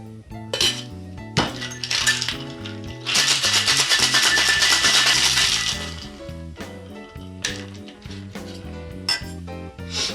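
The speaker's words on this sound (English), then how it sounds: "we're going to give this a really nice shake" Ice clinks into a metal shaking tin for a champagne cocktail made with Old Tom gin, then a vigorous rattling shake lasts a few seconds, close and loud, followed by scattered glassy clinks and knocks.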